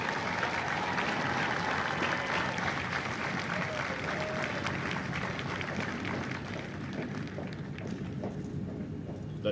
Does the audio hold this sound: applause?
yes